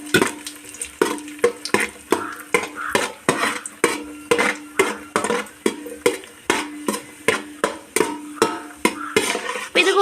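Cashew nuts frying in oil in a pan for chicken biryani, with a faint sizzle under a steady rhythm of spoon stirring strokes and scrapes against the pan, close and repeated about twice a second.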